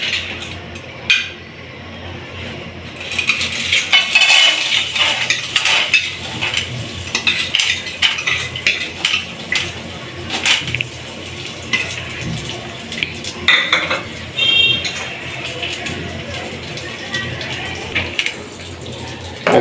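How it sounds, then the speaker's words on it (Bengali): Popcorn kernels pour into a pot, producing a long clattering, rattling patter with metallic clinks and scraping that swells and fades over about twenty seconds. "এখন এই পপকর্নগুলো এর মধ্যে আস্তে করে ঢেলে দিব।"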